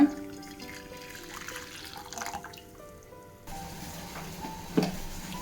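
Washed whole black urad dal and water pour into a cooking pot, faint trickling and dripping that shifts to a fuller splash partway through, with one brief sharp splash near the end.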